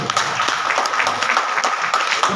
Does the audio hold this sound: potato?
no